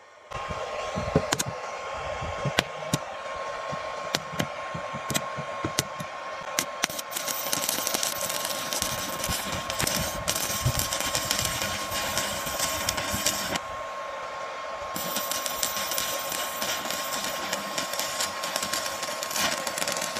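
An inverter welding machine arc-welds with a number 3 electrode, its crackling, sizzling arc buzzing in irregular bursts over the steady hum of its cooling fan, close and continuous.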